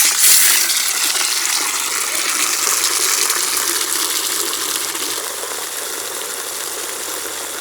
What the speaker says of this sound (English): Next step will be putting some shampoo inside the wheel bucket and create some foam with the